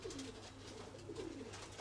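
Pigeons in a breeding loft giving soft, low, rolling coos, faint and close, with no voices over them.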